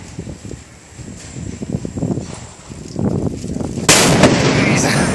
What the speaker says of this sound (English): That's some big ass explosion.